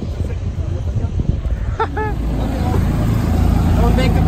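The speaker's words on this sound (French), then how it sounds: "Il y a des bagnoles partout." Cars at a Race Wars car meet: a steady wash of engine and traffic noise under crowd babble, with a brief high tonal chirp near the middle and voices talking throughout.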